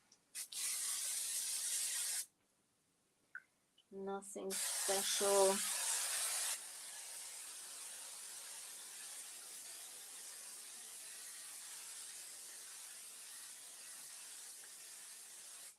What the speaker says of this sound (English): I'm spraying it on the floor, guys, because I don't want to have all the glue in here.